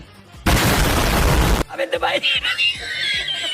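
A loud explosion blast from the Squid Game mode of the Free Fire video game erupts suddenly and roars for about a second before cutting off, followed by scattered game effects and a faint voice.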